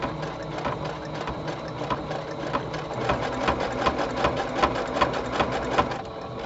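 A sewing machine runs a zigzag stitch on a package cover, a fast rhythmic clatter with regular needle strikes that speeds up slightly, steady and close, with no talking.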